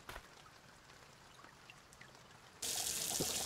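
Water gushes from a garden hose into a moonshine mash pot at a junkyard, starting abruptly as a loud, steady broadband rush near the end after quiet background.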